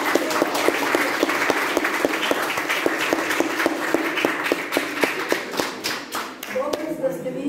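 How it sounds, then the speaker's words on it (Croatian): Applause from an audience at a young poets' evening in a city museum, lively rhythmic clapping that runs steadily before thinning out near the end, close and fairly loud. "Aplauz za ove sjajne."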